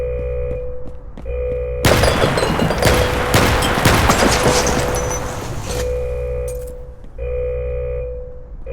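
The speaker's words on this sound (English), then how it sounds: "They are dropping air bombs on us." Air bombs burst over a prison under attack in the video game Red Alliance, a dense roar of blasts and crackling debris lasting about four seconds, loud and close, set against a steady humming game backdrop.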